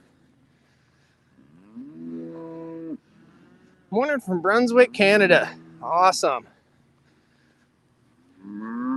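Cattle moo during a morning roundup on a farm in Brunswick, Canada, with a long low call followed by several loud, wavering moos up close. Someone speaks briefly between the calls.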